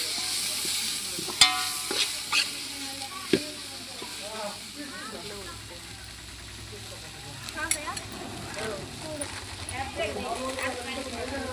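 Masala paste with small tomatoes frying and being stirred in a pan, a soft continuous sizzle with occasional scraping clicks of a spoon, fairly quiet and close, with a voice speaking over parts of it.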